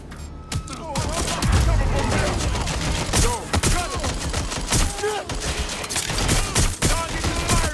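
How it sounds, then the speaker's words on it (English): Rapid gunfire from an enemy target in the video game Watch Dogs Legion, dense bursts of shots and impacts crackling continuously and loudly across the scene, with game voices mixed in. "Target is firing!"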